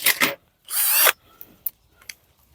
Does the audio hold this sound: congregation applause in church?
no